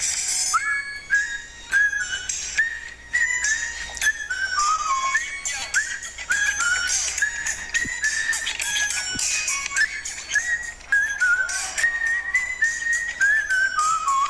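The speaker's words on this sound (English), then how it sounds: "Give it up for that whistle solo." A whistle solo plays a bright, fast melody of short trilling notes and sliding pitches, loud and continuous over faint background music, in a comedy stream.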